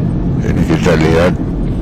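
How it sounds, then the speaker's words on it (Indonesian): Vehicles passing on the Maros–Bone road through tree-lined Sabila, a loud, close rush of engine and tyre noise under a speaking voice. "beberapa kendaraan yang lewat"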